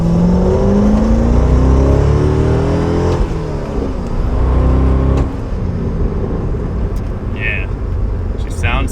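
A C6 Corvette with an aftermarket exhaust revs up with a deep, throaty, meaty rumble that rises and falls through several pulls, loud and close, with a person talking faintly over it.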